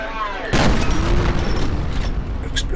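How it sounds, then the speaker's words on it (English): Explosions in the video game F.E.A.R.: a sudden loud boom followed by a sustained, dense roar of blasts and gunfire with a long rumbling tail. "Explosions."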